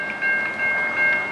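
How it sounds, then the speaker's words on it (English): A MARC commuter train crossing bell at Summit Avenue in Gaithersburg, Maryland rings in steady, evenly spaced metallic dings over low background rumble, fairly close and loud with no talking. "That's an awesome crossing bell right there."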